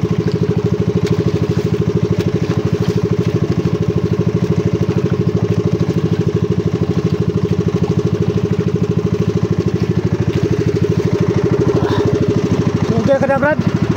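A pumpboat engine running at sea off Burias Island, a steady loud mechanical drone that holds unchanged throughout and sits close, with a voice speaking over it.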